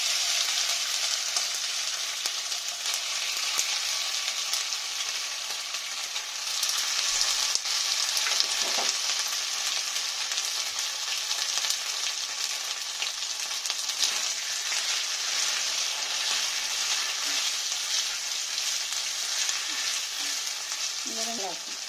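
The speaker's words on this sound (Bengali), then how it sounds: "এবার চিকেনটা আমি এর মধ্যে ভেজে নেব।" Marinated chicken fries in oil in a kadai, a continuous close sizzle with occasional utensil clinks and brief faint murmurs beneath it.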